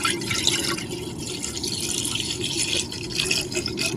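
Half a kilo of pure milk poured into a kettle in a home kitchen, a continuous liquid splashing and trickling stream that runs at an even level for about four seconds.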